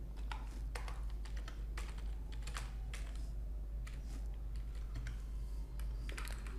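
Computer keyboard keys tapped in irregular bursts while a heading and placeholder text are typed into a web page document, close and fairly quiet over a steady low hum, with no talking.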